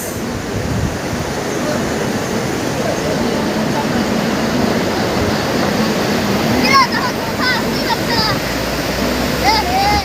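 Steady roar of sea waves breaking on Mallika sea beach at Tajpur, a continuous broadband wash filling the whole stretch, with faint chirps and voices rising briefly near the end.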